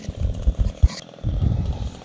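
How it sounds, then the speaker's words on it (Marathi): A repaired cutter machine saws through a felled neem tree in bursts, a close, rough motor drone with low grinding pulses that pause briefly before resuming. "कटर मशीन आणि आता लिंब पूर्ण कटिंग करायचं काम चालू आहे"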